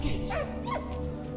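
A dog in the World War I video game Valiant Hearts gives two quick whimpering yips, close and clear over a low steady game background hum.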